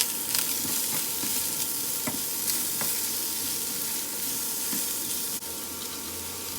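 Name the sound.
onions, carrot and bell peppers frying in frying pan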